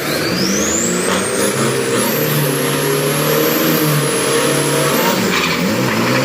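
A Toyota Vigo diesel street truck roars down the drag strip at a drag party, its engine loud and close, climbing steadily in pitch through the gears, with no talk.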